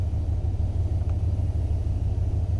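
A carbureted Class B RV campervan fitted with dual exhaust cruises down the road, its engine a steady, close, continuous low rumble with no gaps or voices.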